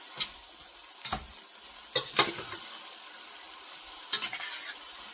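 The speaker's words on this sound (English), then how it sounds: "I put a little bit of olive oil in the pan to saute with" Food sautéing in olive oil in a skillet, a soft background sizzle punctuated by several sharp scrapes and clinks of a utensil stirring, close by and without talking.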